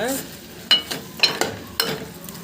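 A spoon stirring chopped onion into raw prawn and green mango curry in a pan, several distinct scraping knocks spaced irregularly over a faint sizzle, close and clear.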